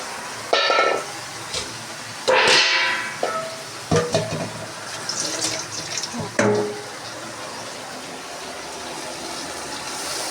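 Water used to rinse a mustard-grinding blender jar is poured into a cooking pot, giving several short splashing gushes in the first seven seconds, then a quieter stretch.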